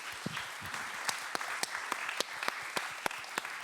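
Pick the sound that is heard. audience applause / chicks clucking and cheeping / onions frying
audience applause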